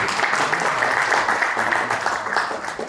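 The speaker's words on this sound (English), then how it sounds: "Big round of applause, everybody, for Anu Malhotra and Associates." A steady, dense burst of clapping from a crowd at a stock exchange listing ceremony, loud and continuous for the full three seconds, fading slightly toward the end.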